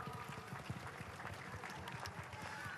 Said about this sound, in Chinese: 我们再次给我们的董事长跟校长一个掌声鼓励